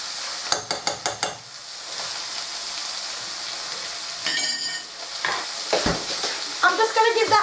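Keema mince with garlic and ginger paste sizzling in a pan, stirred with a spoon that clacks against the metal in quick repeated taps at the start and again in bursts later, over a constant frying hiss.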